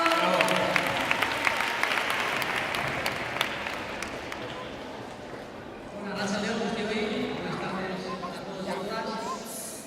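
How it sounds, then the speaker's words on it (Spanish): A crowd applauds at a closing ceremony in Bilbao, scattered claps fading under speech; a public-address voice soon talks over the dwindling clapping. "Un fuerte aplauso."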